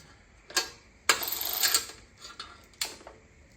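Ratchet wrench working a 10mm bolt on a Briggs & Stratton Big Block engine cylinder head, giving a few short, close mechanical clicking bursts with one longer ratcheting run in the middle, no talk.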